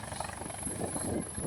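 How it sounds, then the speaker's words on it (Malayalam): A helicopter comes in to land at a helipad at Agatti in Lakshadweep, its rotor beating in a loud, continuous, throbbing whir with a steady engine whine on top. "അവിടുത്തെ ഹെലിപ്പാഡിൽ ഒരു ഹെലികോപ്റ്റർ വന്ന് ലാൻഡ് ചെയ്യുന്നുണ്ടായിരുന്നു"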